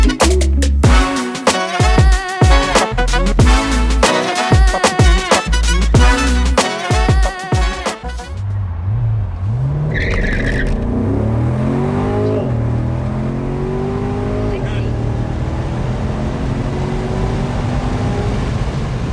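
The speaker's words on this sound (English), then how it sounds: "Got a 2019 Corvette Stingray. We're gonna run this thing and see what she can do." A 2019 Chevrolet Corvette Stingray makes a hard 0-60 launch. The engine revs loudly and climbs through several sharp upshifts over the first eight seconds. Then it eases into a lower, steadier drone with some wind noise as the car pulls away.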